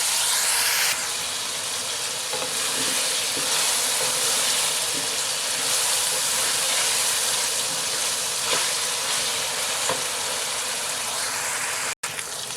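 Potato and eggplant pieces frying in a pan give off a loud, even hiss of sizzling oil, broad and unbroken, with a few faint clinks now and then.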